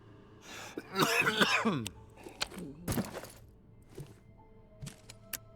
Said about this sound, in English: keep my guy from coughing